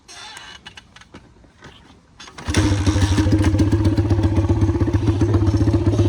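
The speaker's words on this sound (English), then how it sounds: "Hold the clutch, gear, slowly release the clutch. The bike is moving on its own" A dirt bike sits with light clattering and thumps, then its engine bursts into a loud, steady, close-up drone as the clutch is released and the bike pulls away.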